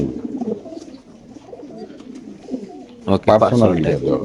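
Racer pigeons kept in pairs at a seller's stock cooing in soft, low, continuous murmurs, with a louder, fuller burst close by near the end.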